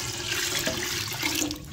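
Water pours steadily from a jug into a pressure cooker holding washed moong and masoor dal, a continuous close gushing and splashing that lasts throughout, with no talk.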